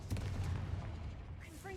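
A Confringo fire spell blast in Hogwarts Legacy sounds as a dense, booming burst with rapid crackling impacts, close and loud, fading quickly while a voice shouts the spell over it.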